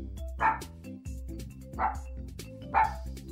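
A pet dog named Spark barks three times at roughly even intervals, each bark loud and close, over a steady background of music.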